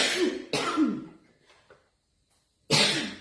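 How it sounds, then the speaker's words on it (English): Two harsh coughs close together, followed by a quieter pause and a third forceful cough near the end, all close to the microphone. "sorry, that cough is still lingering"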